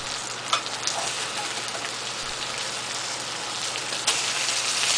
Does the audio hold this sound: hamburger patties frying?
yes